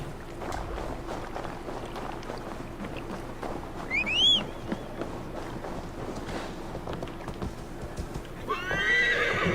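Horse whinnying and hooves clip-clopping in Assassin's Creed Valhalla, steady hoofbeats throughout under wind, with one clear neigh midway and another rising whinny near the end.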